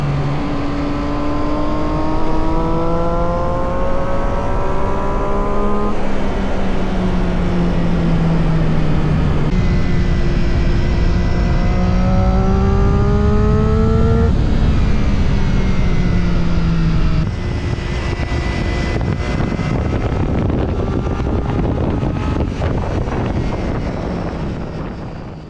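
Motorcycle engine recorded by a GoPro Hero 13 camera during a ride: a steady droning tone that rises and falls with throttle and gear changes, under constant loud wind buffeting for the whole stretch.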